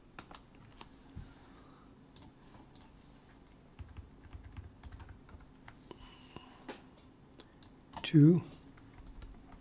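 Computer keyboard typing comes as sparse, irregular key clicks under a low hum, with a short spoken word near the end.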